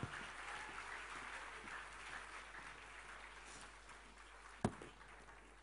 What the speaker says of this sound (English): So with the loudest applause,